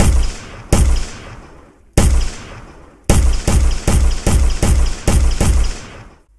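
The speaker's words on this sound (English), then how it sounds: "Now when we play and shoot something, we get bullet holes." Gunshots from a first-person shooter built in Unreal Engine 4: sharp loud single shots with decaying tails, spaced out at first, then a quick rhythmic burst of about seven rapid shots.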